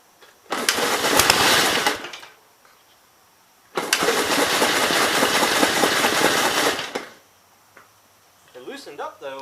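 A 1951 Gravely Model L engine with suspected carburetor trouble bursts into loud, close sputtering running twice, first briefly and then for about three seconds, with a pause between; a person speaks afterward.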